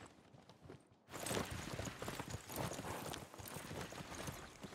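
Horses clip-clop away at a run after their riders fall in the Civilization 6 strategy game, a dense, steady patter of hooves that starts abruptly about a second in and stays loud to the end.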